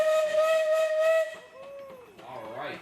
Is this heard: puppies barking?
no